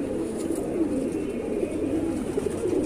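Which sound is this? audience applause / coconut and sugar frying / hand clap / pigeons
pigeons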